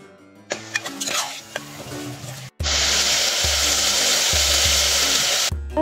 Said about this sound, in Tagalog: Lagyan ko lang ng paminta at ginisa ko ng konti.